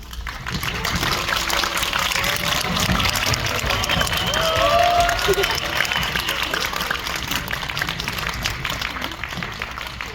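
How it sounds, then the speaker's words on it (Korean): A cinema audience at Megabox Mokdong applauds as the director and cast of the film Exhuma arrive for a stage greeting. The clapping is loud and sustained, with crowd noise and voices throughout. "감독님과 배우분들 모실 때 어, 큰 박수 부탁드리도록 하겠습니다"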